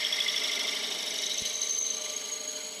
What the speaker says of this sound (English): allow me to drill a hole in the top of the blank